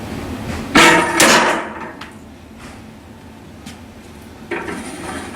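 Several sharp metallic impacts from the tip of a Cold Steel traditional tanto knife striking a steel table block, two loud close hits followed by fainter knocks and a final clank, with no talking.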